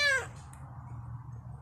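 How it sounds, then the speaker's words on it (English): A single short, high cat-like meow from a cartoon dog in a children's story, close and clear, fading into a low hum of background sound. "Did he just meow?"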